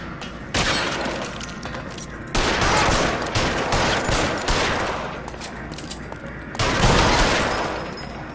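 Gunfire erupts in L.A. Noire, a rooftop chase shootout, with dense bursts of shots and shattering impacts in three loud waves, close and harsh.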